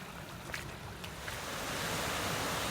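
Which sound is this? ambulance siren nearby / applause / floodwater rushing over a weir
floodwater rushing over a weir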